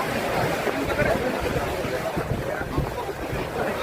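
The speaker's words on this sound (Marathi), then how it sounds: "फुल वारा सुटलाय." Strong wind blows across an outdoor sporting event in Chiplun, Konkan, a continuous loud rushing roar buffeting the microphone with no clear pauses.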